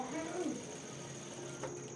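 A sewing machine stitching a men's kurta hums with a steady, close mechanical whir, fairly quiet and continuous.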